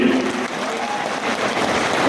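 An audience of party workers applauds at a gathering with a local MLA, a dense, even wash of many hands clapping that holds steady throughout.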